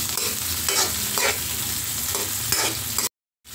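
Squid balls and tomato sauté in a hot pan, a close, loud continuous sizzle with repeated stirring scrapes, cutting to a brief silence near the end.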